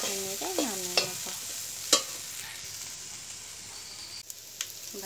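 Borboti potato fry sizzles in a pan while it is stirred, a soft continuous frying hiss broken by a few light scrapes and clinks of the spatula, close and alone.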